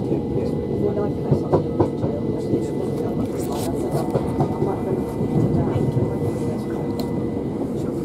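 A Southern train between Wivelsfield and Lewes rumbles steadily along the rails, with a continuous low roar and faint rhythmic clatter, heard from inside a carriage.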